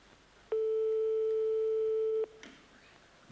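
A single steady electronic telephone ring sounds for under two seconds during a 1991 French TV variety show call-in segment, then gives way to quiet room tone.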